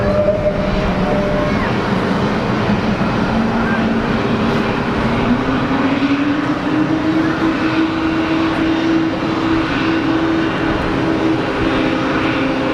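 A passenger aircraft on final approach to Geneva Airport, runway 22, its engine whine rising and sliding upward in pitch as it draws closer, a loud continuous drone with no voices.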